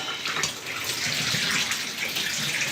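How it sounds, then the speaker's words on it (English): Water running steadily from several opened taps as a domestic plumbing system in Surrey is drained down, a continuous loud hiss with no break. "So we're opening up all the taps to drain down the whole entire system"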